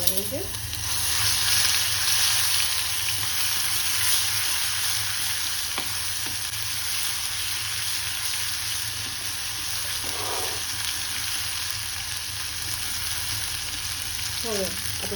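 Ginger-chili paste with cumin and asafoetida sautéing in hot oil, a steady close sizzle lasting throughout, with a few stirring scrapes near the start, middle and end and no talking.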